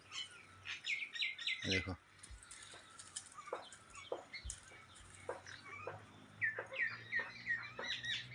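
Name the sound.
birds and sparrows chirping in a village garden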